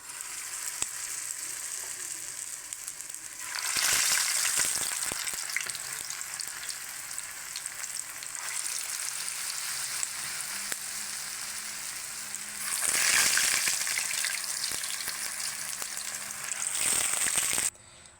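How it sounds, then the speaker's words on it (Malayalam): Carrot and wheat vada batter, mixed with curry leaves and coriander, fries in a hot pan with a loud, continuous close-up sizzle that surges in intensity several times. "ഇനി നമ്മൾ വടയിടാൻ പോവുകയാണ്."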